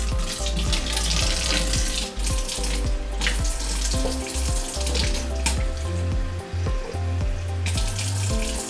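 Warm tap water running steadily from a faucet into a container for a recipe, a loud continuous splashing gush with small shifts in flow, no talk.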